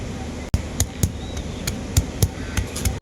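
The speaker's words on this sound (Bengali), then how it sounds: "এরপর আমি আদাটা বেটে নেব" Ginger is ground on a grinding stone at home, giving a series of sharp knocks and scrapes at an uneven rhythm, close and fairly loud, with no talk.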